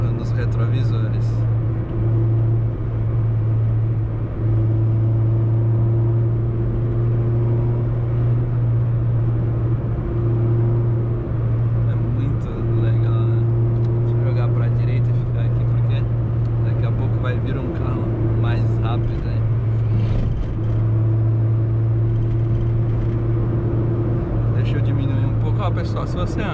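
Chevrolet Corsa Wind 1.0 car descending the mountain road on the Anchieta highway, a steady engine drone and road rumble running throughout at light throttle, with someone talking over it.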